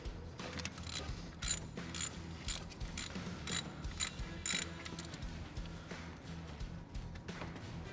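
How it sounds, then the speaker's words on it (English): A ratchet clicks in repeated quick bursts, backing out an 8mm bolt from the cylinder head of a Ford F-150. The mechanical clicks are close and crisp, with short pauses between strokes. "Next we're going to remove the 8mm bolt that holds the sensor into the cylinder head."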